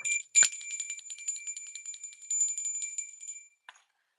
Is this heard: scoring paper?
no